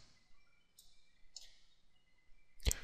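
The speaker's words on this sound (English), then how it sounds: "And if I double click the object, it takes me to the sound tab" Computer mouse clicks while editing a loop in Mixcraft: faint, sharp clicks spaced apart, ending in a louder, crisp click over a quiet background hum.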